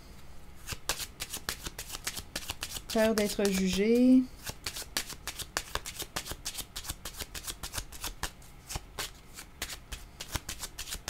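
Tarot cards shuffled by hand in a steady run of crisp riffling clicks, with someone talking briefly partway through over the card noise.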